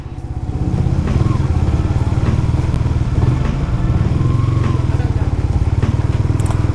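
A motorcycle engine runs steadily and loud throughout, puttering through a typhoon-flooded street with a constant rhythmic chug, with faint talk and splashing beneath it.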